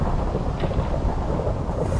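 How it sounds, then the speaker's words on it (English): Minecraft thunderstorm rumbles steadily with heavy rain, a loud continuous low roar filling the scene with no voices. "I love the thunder sounds in here"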